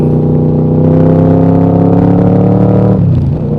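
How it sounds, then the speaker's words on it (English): A running motorcycle engine in good order idles steadily and close, its low rumble holding even before dropping slightly near the end. "Good running bike."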